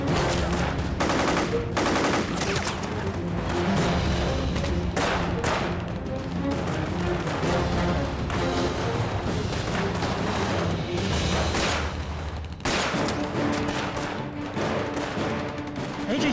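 Rapid, loud volleys of gunfire crack repeatedly in an action film scene about the Japanese occupation, dense bursts continuing almost without pause.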